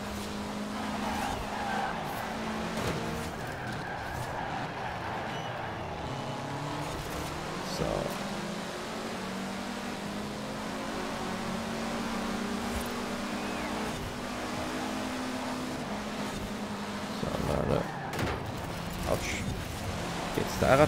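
A Mitsubishi Evo race car of about 420 horsepower driving in the video game Forza Horizon 4, its engine droning steadily with brief tire noise, someone talking over it throughout.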